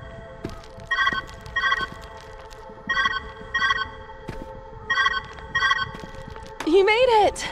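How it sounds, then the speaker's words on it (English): In the video game Viewfinder, a phone-like ring sounds in repeated double bursts, evenly spaced, over a quiet background, followed by a short warbling electronic tone. "Where's that ringing coming from?"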